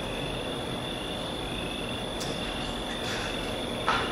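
Steady, dense insect chirring fills the background, a continuous generated cricket chorus at moderate level with no pauses or voices.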